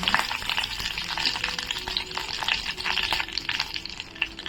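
Mustard seeds and curry leaves crackling in hot oil for kadhi tempering, a dense close sizzle with sharp popping spatters and stirring, continuous and loud with no speech.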